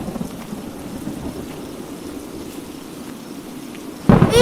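Heavy rain during a stormy thunderstorm, a dense steady hiss of rain falling on surfaces with low rumbling beneath, ending in a sudden louder burst.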